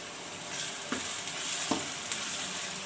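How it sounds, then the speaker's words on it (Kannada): Chopped tomato sizzles and fries in an oiled pan with ginger-garlic paste for egg bhurji, a steady close hiss broken by a few soft stirring scrapes. "ನನಗೆ ಇದಕ್ಕೆ ಟೊಮೊಟೊ ಹಾಕ್ಕೊಳ್ತಾ ಇದ್ದೀನಿ."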